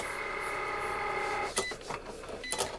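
A craft cutting machine drives a pen to write out a Thanksgiving place card, giving a steady mechanical whir with a few sharper clicks and shuffles of carriage movement near the end.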